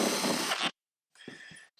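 Small T10 Torx stock screws being driven out of a Harley Road Glide speaker grille with a power driver: a steady whirring burst, a brief pause, then a second shorter run, close and fairly loud.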